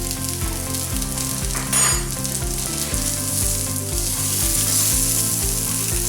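Gravy powder and brown sugar cook in a pan with a steady, loud sizzle, a brief stronger burst partway through, over a low repeating background hum.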